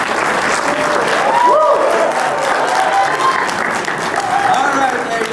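An audience claps warmly for a music troupe, dense sustained applause from an indoor crowd with voices mixed in.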